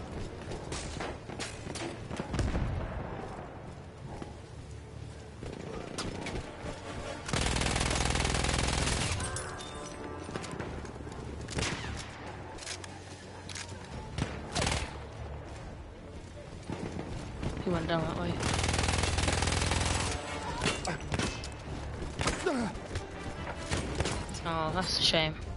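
Rapid automatic gunfire from twin-barrelled Automatico submachine guns in Battlefield 1, sharp sustained bursts rattling in and out amid battlefield noise, with a voice talking over parts of it.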